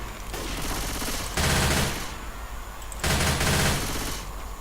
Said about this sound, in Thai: ยิงก่อนเลยครับไม่ต้องรอช้า ยิงก่อนได้เปรียบครับยิงก่อนได้เปรียบ